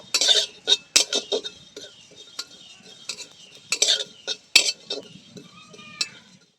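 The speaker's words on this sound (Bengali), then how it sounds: "এবার রাঁধুনি আর মৌরিটা আমি ভেজে নেব। তার জন্য কড়াতে দিয়ে দিচ্ছি। এইভাবে নেড়ে চেড়ে আমি ভেজে নেব।" Radhuni and fennel seeds dry-roast in a wok for shukto, heard as scattered metallic scrapes and clinks of a spoon stirring in irregular bursts, near and moderately quiet, without talk.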